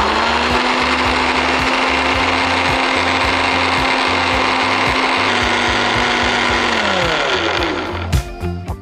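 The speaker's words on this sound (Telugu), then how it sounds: "గ్రైండ్ చేసుకుని let's make it a smoothie" A traditional South Indian mixer grinder runs loud and steady while it blends a coconut coffee smoothie, then winds down near the end, followed by a few clattering knocks.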